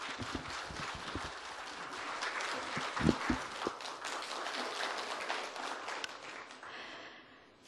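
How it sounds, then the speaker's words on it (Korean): Audience applauding to welcome a forest interpreter onto the stage at a culture session of the Jeju Forum, with steady dense clapping that swells briefly and then thins out toward the end. "큰 박수로 환영해 주시기 바랍니다"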